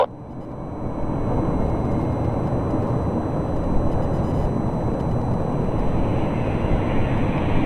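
A Kenn Borek Air DC-3 Turbine, registration C-GVKB, takes off on runway 35 left at Calgary Airport, its turboprop roar rising quickly and then holding steady and loud with no voices.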